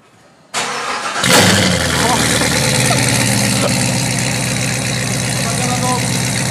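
Lamborghini engine cranks and fires with a sharp loud roar, then settles into a steady, deep idle that continues to the end.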